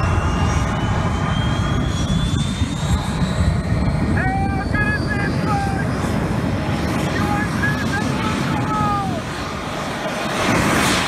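Loud, continuous roar of a jet car's engine at the Fire Thunder & Destruction motorsport show in Bundaberg, 2021, a sustained broadband blast with whining tones rising and falling, crowd and announcer voices faintly mixed in.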